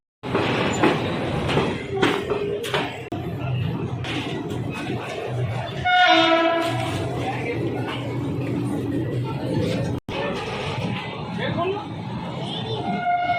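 The Amritsar-Haridwar Jan Shatabdi Express pulls out of Saharanpur, rumbling and clattering over the rails, with a short horn blast midway and people talking over it.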